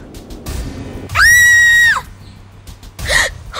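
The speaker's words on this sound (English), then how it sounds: "I heard you scream." A woman's high, sustained scream rings out close and loud for nearly a second in an animated pony cartoon, set between quieter ambient sounds and a short gasping cry near the end.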